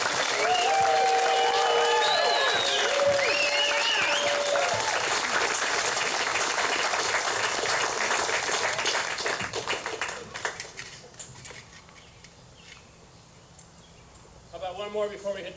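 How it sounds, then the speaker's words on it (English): A concert audience at an Army band summer show gives a warm round of applause for a band member, dense clapping and a few whistles for about ten seconds before it fades to scattered claps and a brief voice. "please give me a warm hand and a round of applause for Michael Chevalier"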